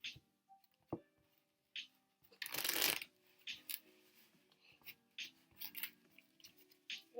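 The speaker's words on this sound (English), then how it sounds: "I'll give it some riffle shuffles" Quick riffling flutter of playing cards being shuffled, with soft taps and clicks of the deck being handled between bursts, close up and quiet.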